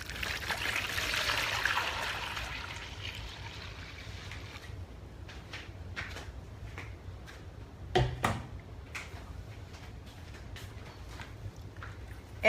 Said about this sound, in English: We'll add some room temperature water.